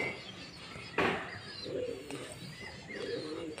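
Pigeons coo and murmur softly while adult birds feed their chicks inside a loft, with a sudden rustle and faint chirps, plus some background voices.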